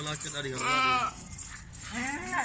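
A goat bleats, a wavering harmonic call and a second shorter one, close by on a goat farm, with people talking in the background.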